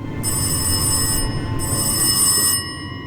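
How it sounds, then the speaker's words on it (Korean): Old-style telephone bell in the horror game Rise of Insanity rings in two long bursts, a brief pause between them, over a low rumbling storm-like background. "꺼져버린 TV 소리를 대신해 이번에 전화벨이 주인공을 부르기 시작하죠"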